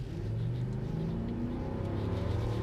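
A 2020 Ford F-250 with the big gas V8 revs hard and steadily, a loud, close, continuous engine roar with rising and falling rumble and no voices over it.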